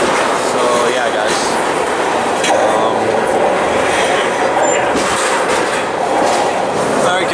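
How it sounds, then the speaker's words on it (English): A long freight train of chemical tank cars rolls past at a rail festival, a loud continuous rumble with clattering wheels and occasional squeals filling the whole stretch. "there's actually still a freight train that's going through"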